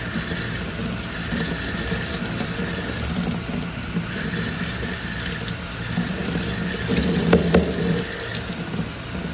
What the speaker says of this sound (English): Rinse until no small particles pass through the sieve.